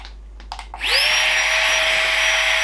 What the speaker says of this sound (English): And we're pumping up. See how long it takes to pump up.